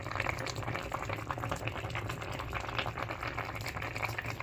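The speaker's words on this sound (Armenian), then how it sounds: "Մի ժամից ավել արդեն եփում է" Grain-stuffed dolma rolls boiling in a pot for over an hour, a steady close bubbling and rapid liquid popping throughout, no voices.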